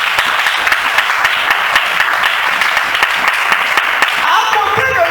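A church congregation applauds and cheers in praise of the Lord, a dense, steady wash of clapping with raised voices mixed in, loud and sustained throughout.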